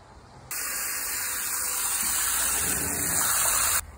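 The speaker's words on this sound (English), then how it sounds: "Now let's fill it with water." Water gushes and hisses steadily into a MyoIce Elite ice bath barrel for about three seconds, starting and stopping abruptly, loud and close with no talking.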